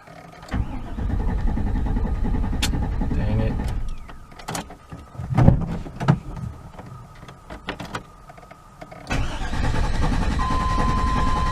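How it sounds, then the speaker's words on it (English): The engine of an OBS GMC/Chevy pickup truck cranks over in several bursts with clicks and clunks between attempts, close and fairly loud, ending in a longer stretch of steady cranking. "hopefully this thing will crank"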